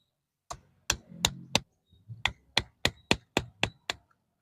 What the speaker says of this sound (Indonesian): Saya pakainya pahat yang cembung ya.